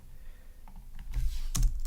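Typing on a computer keyboard: a short burst of soft key clicks with no voice, starting faint and growing louder, ending in a cluster of firmer keystrokes.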